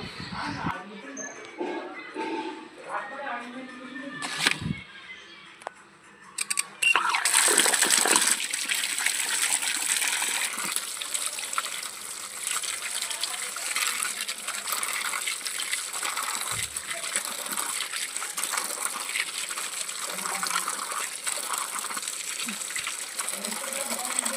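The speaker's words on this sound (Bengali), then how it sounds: "প্রথমে পটলগুলো ভালো করে জল দিয়ে ধুয়ে নেব।" Pointed gourds being scrubbed by hand in water, a steady splashing and sloshing with occasional knocks as the vegetables rub together, running continuously with a voice speaking over it.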